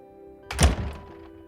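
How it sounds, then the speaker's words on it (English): A single heavy metal thud sound effect for a game being built in Godot lands once, close and dull with a short resonant decay, over a faint steady background hum. "So I want it to play some kind of like a metal thud thing."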